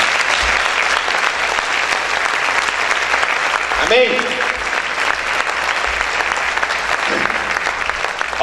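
A church congregation applauds loudly and steadily in a sustained wash of clapping, with a voice briefly calling out partway through.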